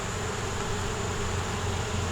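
Honey bees buzz around an open hive, a dense, continuous drone of many wings, close and steady with no break, filling the short stretch alone.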